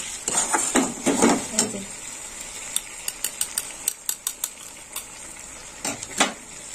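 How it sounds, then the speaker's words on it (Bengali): Whisked yogurt goes into cooked-down tomato masala in a pan for dahi aloo, bringing a soft sizzle under repeated metal clinks and scrapes of a spoon against the pan, in quick irregular taps, with no talk. "এবার আমি ফেটিয়ে রাখা দইটা দিয়ে দেবো।"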